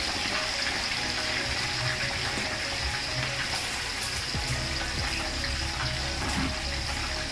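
Chicken fat frying in hot oil while chicken oil is being made, giving a steady, even sizzling hiss that runs through the whole clip with no talk over it.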